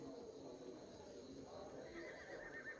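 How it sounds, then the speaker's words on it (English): Horses neigh and whinny over a steady, busy ambience, with hooves clip-clopping throughout and voices murmuring faintly underneath. "Yes, we hear the horses."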